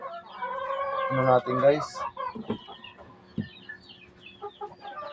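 Chickens cluck and squawk in a newly built coop where eggs are being incubated, with a rooster-like call and scattered bursts of clucking. Someone speaks briefly at the start.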